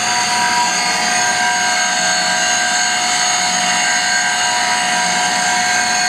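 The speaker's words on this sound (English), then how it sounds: "Turning on the machine. Both wheels spinning easily." A Kombi Schliff diamond wheel carbide tool grinder runs at idle with both wheels spinning freely, a loud, steady high-pitched whine and hum that holds evenly throughout with no voices.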